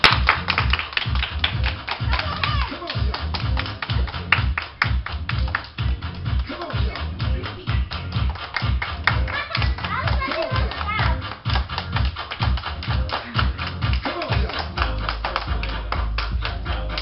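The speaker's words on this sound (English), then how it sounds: "Everybody clap your hands." A group of people clapping their hands in a steady rhythmic beat, mixed with children's voices and music-like tapping throughout, fairly loud and continuous.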